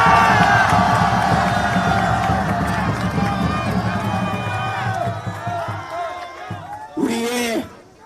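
Large outdoor crowd at an Olympic Park rally roaring and cheering, a loud sustained wash of many voices that slowly thins, ending with a brief shout or whistle.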